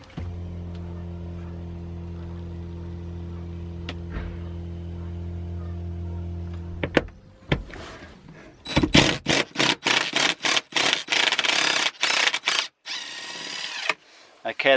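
Torx bolts on a twelve-year-old BMW seat being undone with a power tool, heard as a steady motor hum followed by a series of loud, rapid bursts of ratcheting and rattling close by.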